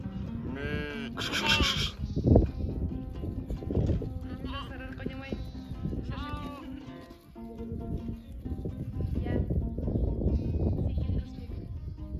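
A flock of sheep driven down to a river to drink bleats repeatedly, near and far, with hoof clatter and people talking over the animals.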